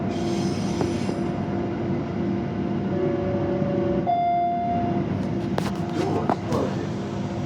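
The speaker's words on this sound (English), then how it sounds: "Another freight train, eh?" A steady low rumble of a freight train rolling past Midland Station with rail clatter, a long tonal squeal rising midway, and a few sharp metallic clanks near the end.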